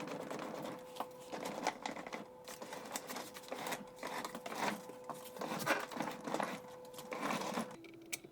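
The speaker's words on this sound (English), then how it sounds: "Now I'm free to pull out the dishwasher." A Miele G7566SCVi built-in dishwasher is dragged out of its kitchen cabinet during a renovation, a run of scraping, rattling and clattering knocks of metal and plastic over a steady hum, close and without speech.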